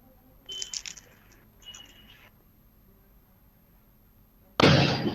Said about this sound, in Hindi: चारों तरफ पटाखों की ध्वनि आपको सुनाई दे रही होगी जी।